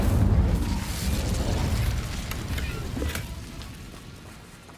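Incendio fire spell cast in Hogwarts Legacy, a loud broad whooshing burst that swells at the start and rumbles on, slowly fading over several seconds with a brief crackle midway.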